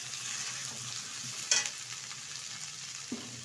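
Carrot, drumstick, potato and bottle gourd pieces frying in a pan for sambar dal, a soft steady sizzle with a spoon stirring, one sharper scrape midway and a light knock near the end, close and without speech.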